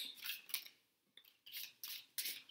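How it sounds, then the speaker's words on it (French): A deck of cards is shuffled by hand in short crisp riffling bursts separated by brief pauses, close and fairly quiet. "C'est difficile à mélanger ce jeu."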